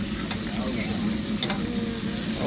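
Dungeness crabs deep frying in hot oil, a dense constant bubbling sizzle with a brief louder crackle, close and steady, with no speech.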